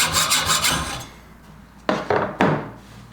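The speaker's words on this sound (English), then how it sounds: "I'm going to go cut a bolt off to make it work." A hacksaw cuts through a steel bolt, its blade worn out: steady rhythmic rasping strokes for about a second, a pause, then a few sharp, loud strokes close by.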